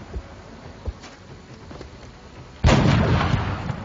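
A single sharp, loud gunshot cracks out in XCOM: Enemy Unknown after a few quiet ticks of ambient sound, then rings and decays for about a second, with no speech.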